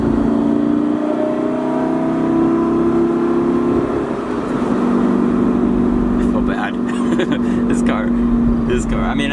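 A loud supercar engine climbs a hill, holding a sustained droning rev that shifts pitch midway and keeps pulling hard throughout, close and continuous, with voices talking over it.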